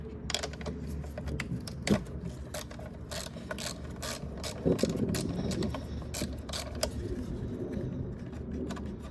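A ratchet clicks rapidly in short bursts, loosening a 13 mm bolt on a Ford Focus transmission control module, with close metallic ticks and a few clunks of the tool shifting.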